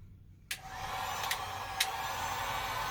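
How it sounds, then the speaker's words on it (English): A heat gun blows a steady, loud whooshing rush of air as it heats PVC pipe outdoors, starting abruptly after a short quiet gap, with a few sharp clicks along the way. "But with the heat gun, it actually makes very quick work."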